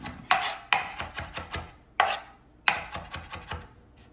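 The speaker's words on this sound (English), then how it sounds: "I will chop that up. And this is the thyme." Knife chopping fresh thyme on a cutting board, a series of crisp close taps in quick irregular bursts, a few sharper strokes among lighter ones, with no talk.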